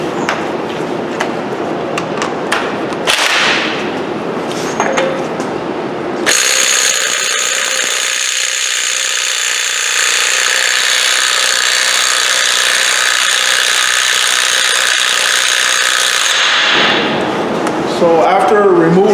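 A Craftsman C3 lithium-ion cordless impact wrench hammers loose car axle nuts with a loud, sustained rattling whir that runs for about ten seconds, preceded by shorter bursts and clatter.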